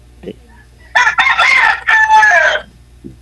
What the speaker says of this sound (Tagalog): yung manok mo, ang lakas yung tilaok niya